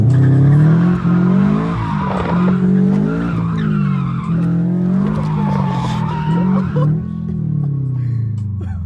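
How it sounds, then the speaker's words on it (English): A 2023 VB Subaru WRX with an aftermarket PLM exhaust drifting, tires squealing in long wavering howls over a loud, close engine drone from inside the car, with no clear talk. "Oh, you never been drifting, bro?"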